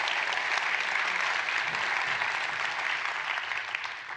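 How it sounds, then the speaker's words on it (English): An audience applauds two retired gentlemen at an annual school-district excellence celebration, a dense, steady wash of many hands clapping that holds evenly throughout without pause. "can we please give them a round of applause?"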